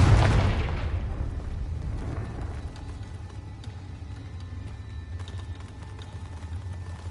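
A Confringo spell explosion in Hogwarts Legacy on PS5: one loud booming blast at the start that decays into a long rumbling tail, with faint clicks and game sounds after.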